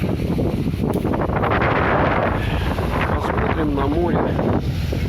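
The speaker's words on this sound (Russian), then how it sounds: "Конечно, ветер, наверное, он мешает" Strong wind buffeting the microphone on a beach at Dolzhanskaya by the sea, a heavy continuous low rumble with surf faintly beneath and a voice talking briefly through it.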